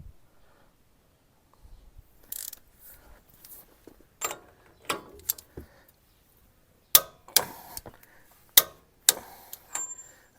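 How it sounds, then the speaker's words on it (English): Sharp metallic clicks from a torque wrench tightening a hub nut on a 2006 Nissan Frontier during hub and bearing replacement, starting with scattered lighter taps, then several loud, distinct clicks in a spaced series near the end. "The torque wrench is already set."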